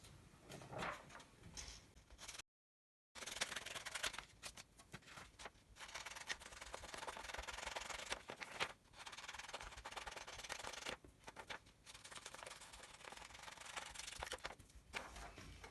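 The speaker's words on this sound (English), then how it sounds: "we are going to cut each card using the scissors" Scissors cut out paper shape cards from a sheet, with quiet, irregular snipping and rustling of paper in short bursts and brief pauses, close up and faint, with no talking.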